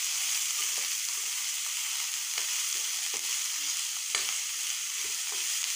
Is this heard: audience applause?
no